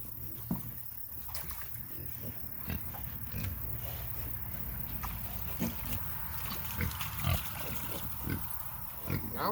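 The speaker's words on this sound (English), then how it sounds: "There's 8 pigs in there." Eight pigs in a pen eat soaked corn hog mash, giving irregular grunts and oinks with wet slurping and splashing. The sounds are fairly faint and continuous with scattered louder snorts.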